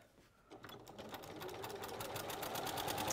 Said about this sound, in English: I'm going to stitch down both sides of this little tab, turn it round, and it's going on the end of my strap